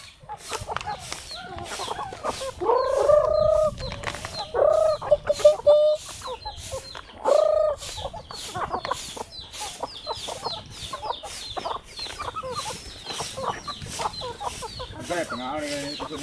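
A chicken or rooster clucks and calls in several separate bursts outdoors, loud and close, with a scratchy, busy background and no talk.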